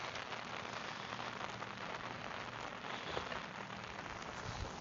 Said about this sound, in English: Nearly done with the rain.